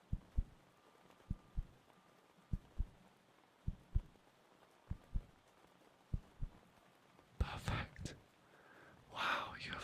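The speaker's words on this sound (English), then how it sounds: "such a rhythmic, steady heartbeat" A steady heartbeat in a veterinary check-up role-play at a zoo: soft, regular double thumps, close and quiet, repeating about every second and a half, followed at the end by breathy rustling and whispering.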